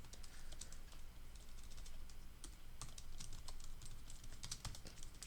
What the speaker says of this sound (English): Let me actually type it out.